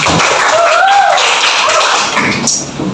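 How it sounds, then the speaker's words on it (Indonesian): A school class claps for a student in a classroom, bursts of hand claps loud and close while a voice rises briefly over them. "kasih semangat buat Aldi, tepuk tangan."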